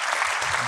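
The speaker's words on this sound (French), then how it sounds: "qu'on peut tous applaudir" A brief burst of audience applause, dense clapping from a crowd at a conference, heard for under a second.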